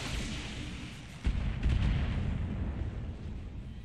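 Weapon fire slams into a mech in Battletech, a deep booming impact rising suddenly from a low rumbling battle background and then rolling on as a sustained heavy roar.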